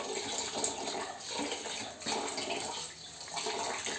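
Fenugreek seeds being rinsed under running water in a strainer, a steady close splashing and trickling that continues throughout.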